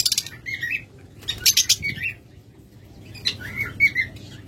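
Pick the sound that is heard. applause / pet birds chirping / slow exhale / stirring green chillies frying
pet birds chirping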